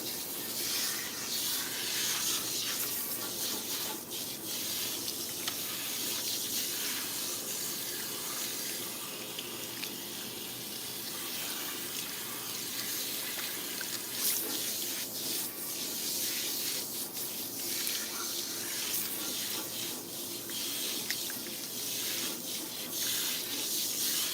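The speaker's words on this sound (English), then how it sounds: "so we're going to rinse her with some warm slash or lukewarm water" Lukewarm faucet water runs steadily at a salon sink, rinsing a client's hair with tape-in extensions, a close, constant hiss and splash lasting throughout.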